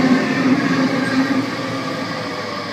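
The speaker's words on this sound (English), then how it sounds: "We have Waratah A43 now departing." Sydney Waratah electric train A43 departing Artarmon station, a loud steady motor whine and rolling hum that gradually eases as the train pulls away.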